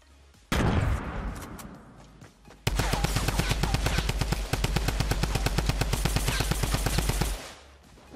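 Tommy gun firing in Fortnite: a short loud burst, a pause, then a long sustained stream of rapid automatic shots that runs for several seconds before cutting off.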